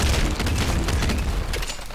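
A grenade shotgun fires in Nuclear Throne, a dense burst of loud booming blasts and rattling explosions packed closely together throughout.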